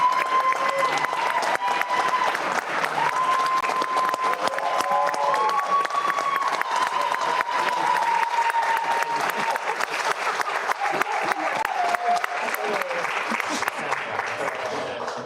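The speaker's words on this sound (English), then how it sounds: "Let's give him a big standing ovation." Sustained applause from a standing audience at a school district workshop, dense clapping that stays steady and close for the whole stretch, with a voice speaking over it.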